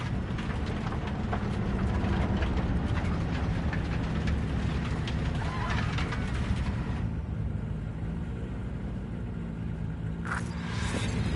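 A train in Cyberpunk 2077 rumbles past close by, heavy low continuous rolling with metallic clatter and rattles, easing slightly near the end with a brief sharp burst of hiss.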